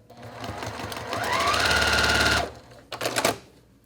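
A sewing machine stitches a quilt block seam in a short burst, the motor whine rising in pitch as it speeds up, then cutting off, followed by a few quick stitches and handling sounds nearby.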